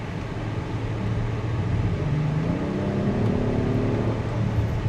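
An Acura MDX Type S accelerates with its 10-speed automatic in S mode, the engine note climbing steadily under a constant road rumble with no talking.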